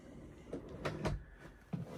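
Solid wooden cabinet door with a magnetic catch in a 2018 Tiffin Wayfarer 24 BW Class C diesel motor home, giving a few soft, close knocks and clicks as it swings and snaps shut against a quiet room.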